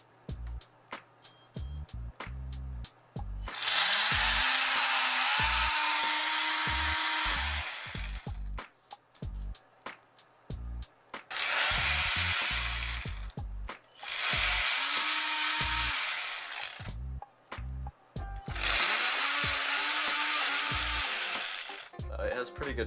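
A small homemade brushless inrunner DC motor whines loudly in several high-pitched bursts, spinning up and winding down between them, with clicks and handling noises in the pauses.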